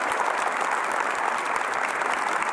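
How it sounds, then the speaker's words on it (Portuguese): A church congregation applauding during a sermon: thick, continuous clapping from many hands, loud and even in level, with no voices standing out over it. "Pode aplaudir, já vai aplaudindo."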